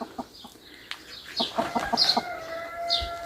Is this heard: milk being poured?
no